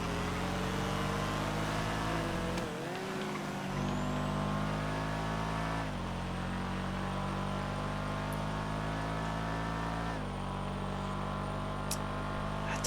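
Race cars roar through a GTA FiveM video game race, a loud continuous engine drone with shifting pitch as the cars accelerate and change gear.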